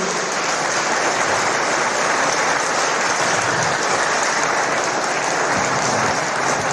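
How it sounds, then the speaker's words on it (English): A large ceremony audience applauds Dr. Su at an honorary doctorate conferral, a steady, loud, continuous wall of clapping with faint crowd murmur and no pause. "May we invite everyone to please give a big round of applause to Dr. Su once again."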